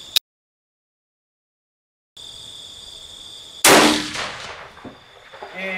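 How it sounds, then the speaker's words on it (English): A single loud rifle shot, fired free recoil from a rifle with no muzzle brake during a scope test, bursts out sharply after a stretch of silence and a steady high electronic tone, then decays with rattling and echoing tail. "So I'm going to free recoil this gun also, and check out how much more this thing bucks"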